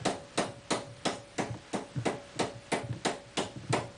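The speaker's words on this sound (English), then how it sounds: "Taking a raising hammer with a straight face and hammering it along the line very lightly of the holes." A straight-faced raising hammer taps lightly and steadily on a piece of armor steel held in a vise, about a dozen crisp, evenly spaced metallic strikes close up.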